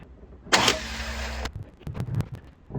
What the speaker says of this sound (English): Bump the engine again.